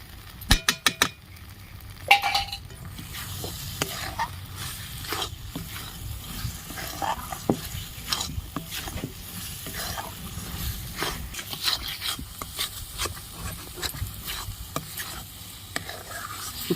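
Carrot halwa cooks in ghee in a wok, with a soft continuous sizzle under repeated scraping and clinking of a spoon stirring against the metal pan, louder bursts at the beginning and then a busy, uneven rhythm.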